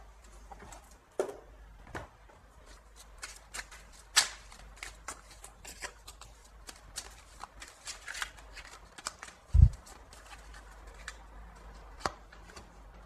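Oracle cards being shuffled by hand, a soft papery riffling with irregular light taps and flicks throughout, close and fairly quiet, with no voice over them.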